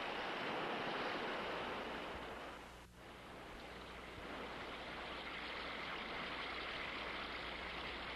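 White water boils down Salmon Creek during a log drive, making a constant, broad rushing roar that stays loud and steady throughout, with no voices.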